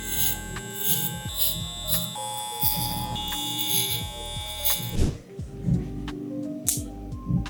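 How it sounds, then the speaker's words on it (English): An electric hair clipper buzzes steadily at close range while a fade haircut is cut into zones, a continuous mechanical hum. It sits under light handling noises and breaks briefly near the middle before resuming. "turn on my clipper"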